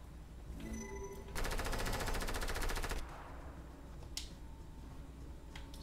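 Automatic gunfire in Fortnite, a rapid, even burst of shots lasting about a second and a half, loud and close, followed by a couple of sharp single cracks against quiet game ambience.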